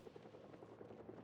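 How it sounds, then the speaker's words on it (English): A helicopter flies overhead in a video game, its quiet, rhythmic rotor thudding pulsing rapidly and evenly as a faint low drone throughout. "that's a helicopter."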